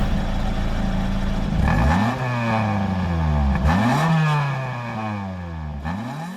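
A Honda Civic Si EF8 engine in Gran Turismo 7 revs up and down repeatedly, loud and close, with rising and falling whines between gear changes.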